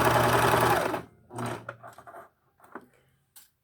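Sewing machine stitching a fabric medical face mask at stitch length 3, a loud steady whirring run for about a second, then shorter bursts of stitching and handling clicks with faint pauses.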